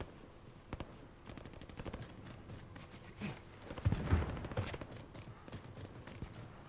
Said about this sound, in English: Shots definitely sound like they're coming from my left